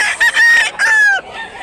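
A rooster crows loudly and close by in Mantalungon, Cebu, a drawn-out, strained call with a rising then falling cry.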